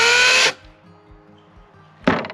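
A Greenworks Pro 80V cordless chainsaw with an 18-inch bar whirs loudly for half a second and stops abruptly as the chain brake snaps on. A quiet pause with light clicks follows, then the motor briefly whirs up again.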